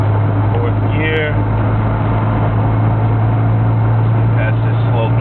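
A 1989 Volvo 240DL wagon with a five-speed manual pulls hard in fourth gear, its engine drone and road noise steady and loud throughout, with a brief higher whine near the start.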